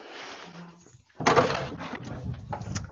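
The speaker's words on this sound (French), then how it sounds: "Je vais ouvrir au chat qui ne va jamais s'arrêter." An indoor door is opened to let a cat in, giving a sudden clack and rattle followed by a few softer bumps and shuffles, moderately close.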